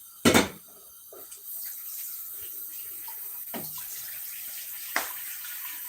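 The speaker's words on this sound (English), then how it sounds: "over here, I'm putting another water for parboiling the rice" Water splashes into a cooking pot for parboiling rice while preparing hot dog fried rice, with a loud burst of pouring at the start followed by a few softer clinks and splashes in a quiet kitchen.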